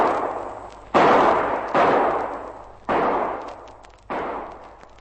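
Four revolver shots fired one after another, each a sharp loud crack followed by a decaying tail, spaced roughly a second apart as a radio drama sound effect.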